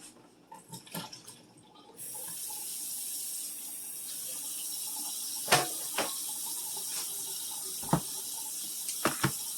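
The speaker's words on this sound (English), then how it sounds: "So I'm just going to drain and rinse them together." Water runs steadily from a kitchen tap over a colander of drained canned mixed vegetables and sliced carrots, a continuous hiss broken by a few sharp clinks and knocks, after a brief stretch of quieter handling.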